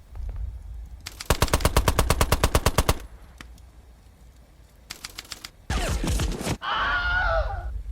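A Vickers machine gun fires a rapid, loud burst of about twenty rounds, then a short second burst follows. After that come a drawn-out rumbling blast and a strained groan or scream, all from a tabletop wargame battle soundtrack.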